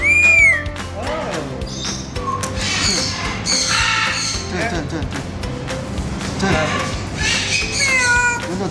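A bird performing at a Dubai Creek Park bird show mimics a cat's meow, giving several squawky, wavering calls over about nine seconds, with crowd noise and people talking around it.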